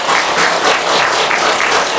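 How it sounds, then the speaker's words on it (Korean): A crowd at a Buddhist dharma talk gives a hearty round of applause, loud, dense clapping from many hands filling the room with an even, rippling texture. "그래서 금강종합건설 대표 민구어머니 이명실 보장님 박수 한번 드리세요."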